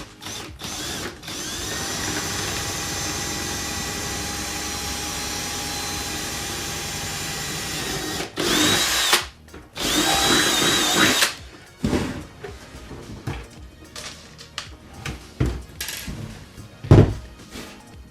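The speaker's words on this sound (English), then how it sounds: "let's drill this." A power drill bores into the ear piece of a stormtrooper helmet, first a long steady whine, then several short bursts of drilling with clunks and handling noises between them.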